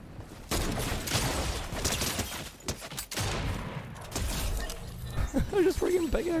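Rapid volleys of gunfire in the video game Fortnite crackle through the clip in dense bursts, with a player's voice talking over the action toward the end.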